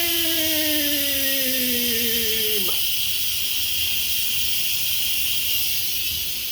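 Steam hisses steadily from a pot of spaghetti carbonara after pressure cooking, a loud continuous broad hiss, while a descending electronic beep-like tone fades out in the first few seconds.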